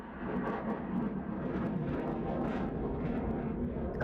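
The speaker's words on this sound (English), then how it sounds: "That was loud. Is that an airplane?" A loud, steady low-frequency roar of an airplane passing overhead, rumbling continuously for several seconds with no talking over it.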